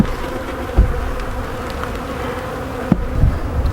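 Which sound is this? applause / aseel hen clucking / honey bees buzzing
honey bees buzzing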